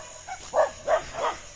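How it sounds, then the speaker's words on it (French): Stray dogs in Indonesia bark three times in quick succession, sharp and somewhat distant, over a faint outdoor background of insects. "il y a plein de chiens errants"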